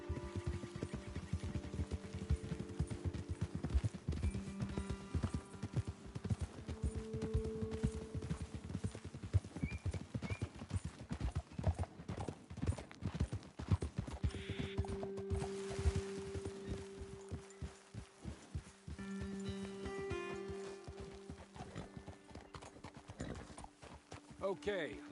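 Horse hooves clip-clop in an uneven walking rhythm on the ground in Red Dead Redemption II, heard close alongside occasional snorts, with characters speaking throughout.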